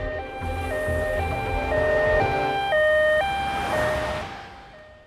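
An ambulance siren wails in a loud, close two-tone pattern, stepping back and forth between high and low pitches, then fades out near the end.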